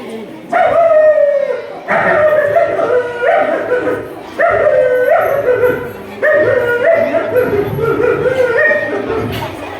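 A person mimics a house dog greeting its owner with happy barks and drawn-out howls, repeated in several loud bursts separated by short pauses.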